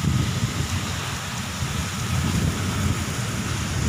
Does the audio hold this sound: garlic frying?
no